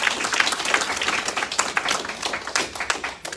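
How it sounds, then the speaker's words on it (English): A church audience at a youth drama presentation applauds with dense, steady clapping from many hands, close and lively throughout. "Let's give a round of applause for the Big 6."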